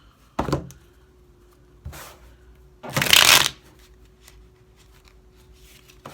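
A deck of tarot cards is shuffled close by. Three separate bursts of riffling and slapping come in, with the last one longest and loudest, set against a quiet hum.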